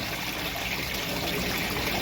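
Water trickles steadily from a DIY spillway on a Bakki shower filter at a koi pond, a continuous close splashing stream with no voices over it.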